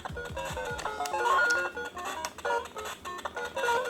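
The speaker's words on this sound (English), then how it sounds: "It's like the sound is sped up" Super Mario game music playing sped up on a fake PS Vita, a quick, chirpy electronic melody with rapid beeping notes and jumpy effects, moderately quiet and close.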